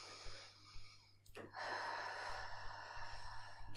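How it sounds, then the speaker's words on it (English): A deep breath, one sharp audible inhale, then a long steady exhale, close and quiet against a soft background hum. "Deep breath."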